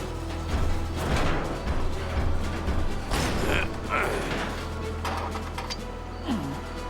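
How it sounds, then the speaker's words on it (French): Cartoon mechanical sound effect of nuts being tightened on a Transformers Rescue Bots robot: sustained creaking and grinding with a steady low hum underneath, continuous and fairly loud, with a few squeaky rising tones near the end. "Il faut juste resserrer les écrous."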